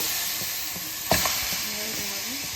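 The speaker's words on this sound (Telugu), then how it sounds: "నూనె వేయకుండా కర్రీ వేస్తున్నాను" Chicken curry pieces hitting a dry kadai with no oil, giving a steady hiss with one sharp sizzle burst partway through and soft scraping after it, heard close and alone.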